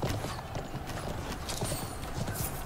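Rapid clip-clop of galloping horse hooves in the video game Conqueror's Blade, continuous and fairly close, with a busy battle din around them.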